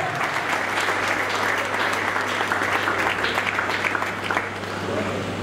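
Sustained audience applause at a live comedy and theatre event fills the room, dense and steady throughout, with a low hum underneath and some voices mixed into the clapping.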